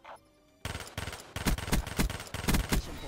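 Gunfire in a team deathmatch video game: after a short quiet lead-in, a loud, rapid burst of repeated shots fires in a steady rhythm for about two and a half seconds, with no talking.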